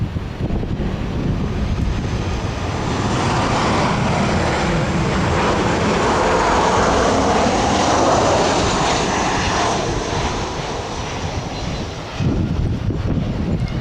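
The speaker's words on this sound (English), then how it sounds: "wait for this plane." A fixed-wing airplane passes over a historic fort, its engine roar swelling loud and steady for several seconds before fading, with wind buffeting the microphone and no talking.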